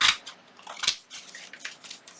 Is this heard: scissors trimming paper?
yes